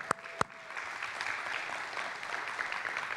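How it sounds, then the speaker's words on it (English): A church congregation breaks into applause for a newly married couple after two sharp knocks, the clapping spreading into an even, moderately distant wash. "Let's give them a round of applause."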